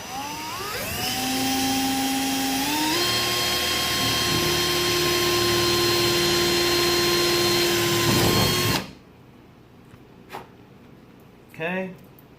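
A power tool runs a rivet into a Seibon carbon deck on a road-racing Supra, giving a loud, steady whine that holds for about nine seconds and then cuts off, followed by a few faint clicks.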